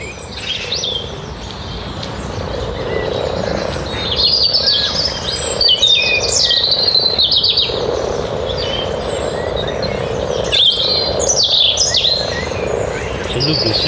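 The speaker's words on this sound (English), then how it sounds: "Frogs spawning." Spawning frogs call continuously in a dense chorus beside an old railway walk, loud and steady throughout with overlapping trills and chirps, no voices present.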